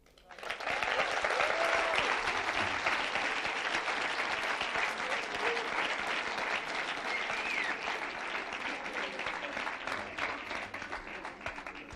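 Sustained audience applause at a student oratory and debate contest, loud and steady for the whole stretch, with dense clapping from a large crowd that tapers only slightly at the end.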